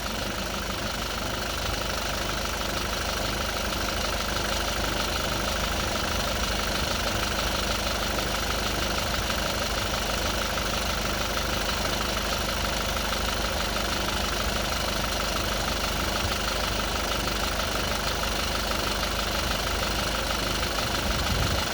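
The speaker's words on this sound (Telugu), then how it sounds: "ఇంజన్ యొక్క నాయిస్ అనేది బాగా రెడ్యూస్ అవ్వడం మనం ఇక్కడ గమనించవచ్చు." A Toyota Innova Crysta engine idling during a carbon-cleaning injection gives a steady, close mechanical drone with a faint knocking texture, unbroken and even throughout, with no voices.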